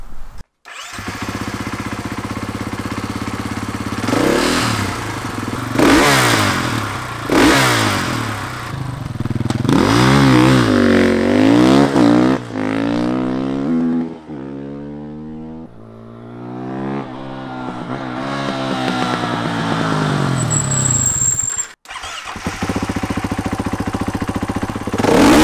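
KTM EXC motorcycle exhaust revs repeatedly up close, rising and falling in long swooping sweeps with a sustained high-rpm pull in the middle, then settling back to idle, with no talk.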